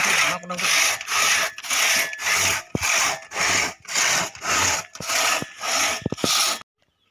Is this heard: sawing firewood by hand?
yes